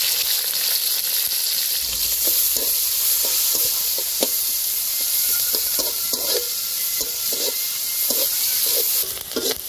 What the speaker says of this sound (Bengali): পেঁয়াজ কাঁচামরিচ ভাজা হয়ে গেছে